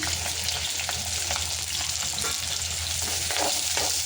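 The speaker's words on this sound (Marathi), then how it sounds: "इथे आपलं तेल गरम झालेलं आहे। आता आपण ह्याच्यात जे कांदा, लसूण आणि मिरची आहे ना ते टाकूया।" Onion, garlic and chili sizzle steadily in hot oil for Chavli bhaji, a dense continuous frying hiss with occasional stirring scrapes, close and fairly loud with no talking.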